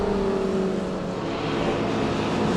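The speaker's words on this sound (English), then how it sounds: "Greg and Thruston is being caught here by Michael Harvey in car number 5." 750 Trophy race cars racing at Rockingham in July 2013, with a continuous loud engine drone and shifting tones as the cars circulate, heard steadily without commentary over it.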